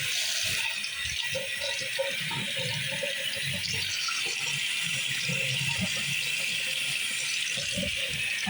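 Water running steadily from a bathroom tap, a continuous low rush with no talking over it.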